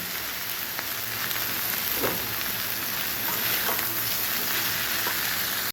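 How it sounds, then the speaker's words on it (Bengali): Bitter gourd (karela) slices with turmeric fry in a pan, a steady close sizzle and crackle with occasional stirring scrapes, continuous for several seconds with no talk. "এইভাবে আমরা তিত করলা ভাজি মানে ভাজি করে খাই"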